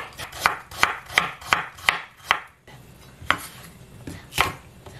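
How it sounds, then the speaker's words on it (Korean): A knife thinly slices radish on a cutting board: a run of seven sharp, evenly spaced chops, a brief pause, then a few slower cuts, all close and with no voices. "무를 이렇게 좀 얇게 썰겠습니다"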